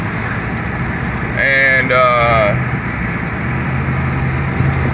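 Cars rolling along in a Trump parade convoy down a town's main street, a steady low engine hum running throughout, with a brief tonal sound rising briefly above it midway and a voice speaking in the clip.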